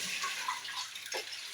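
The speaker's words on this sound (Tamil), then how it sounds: "நிறைய தண்ணி ஊற்றி கழுவணும்" Raw fish washed under running water in a home kitchen, a brief, soft, steady hiss and splash of flowing water heard close and alone.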